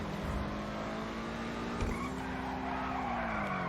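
Tires of a Benefactor SM722 sports car skidding in the GTA video game: a steady, loud screech with engine drone underneath, sustained throughout.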